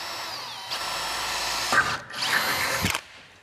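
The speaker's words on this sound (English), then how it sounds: "so drill out the other hole." A power drill whines through steel trunking in two bursts, the second louder and grinding, with a short pause between them.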